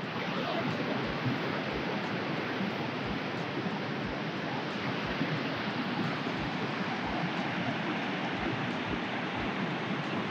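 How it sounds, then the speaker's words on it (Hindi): A fast-flowing river near Pyala Lake on the road to Naran and Babusar Top rushes in a steady, broad roar of churning water, constant and moderately loud, with no voices. "उस तरफ पानी बड़ी तेज़ी से आगे बढ़ रहा है।"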